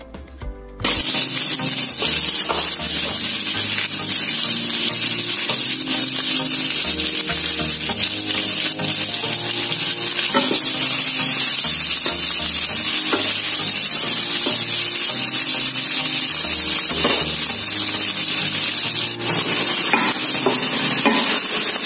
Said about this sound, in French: Les oignons sont bien grillés.